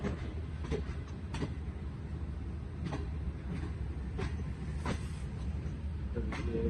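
A passenger train travelling from Karachi toward Lahore, nearing Lahore station, gives a constant low rumble with scattered metallic clacks at irregular intervals.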